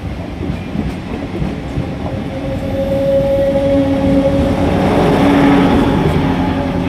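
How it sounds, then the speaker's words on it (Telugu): A DEMU passenger train pulls out of Jammalamadugu railway station on a single line, a loud rumbling engine with a rising drone and rolling wheel noise that builds as it moves off. "డెమో ప్యాసింజర్ వచ్చేసి జమ్మలమడుగు రైల్వే స్టేషన్ నుంచి అయితే డిపార్ట్స్ అవుతుంది"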